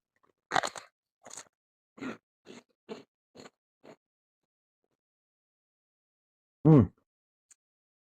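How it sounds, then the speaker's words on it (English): Crisp crunching of Monarchs tangy cheddar cheese crackers being bitten and chewed, a series of short bursts roughly half a second apart, then a pause and one louder close crunch near the end. "Next level crunchiness."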